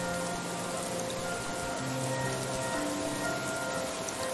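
Steady rain falling in the meditative video game Playne, a continuous even hiss of drops on surfaces that stays at a constant level throughout with no talking.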